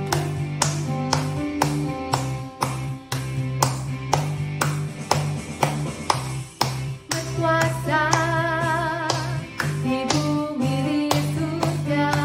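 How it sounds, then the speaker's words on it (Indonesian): Congregation clapping hands in time during an upbeat Indonesian worship song at an online Sunday school service, regular sharp claps on the beat over loud sung music with instruments throughout. "Kita semuanya tepuk tangan."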